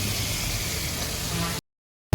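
Onions and tomatoes sautéing in hot oil for mutton chukka, a steady close hiss of sizzling that runs evenly and then cuts off abruptly into silence.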